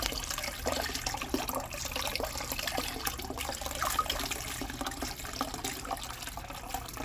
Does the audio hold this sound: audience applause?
no